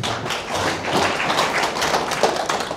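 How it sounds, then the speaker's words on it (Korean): An audience welcomes a lecturer with lively, close applause, individual claps clearly audible in a fast, continuous patter. "큰 박수로 맞이해 주시기 바랍니다."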